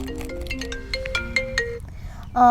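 A mobile phone ringtone plays a short, bright electronic melody of rising and falling tones, loud and close, cut off after a couple of seconds.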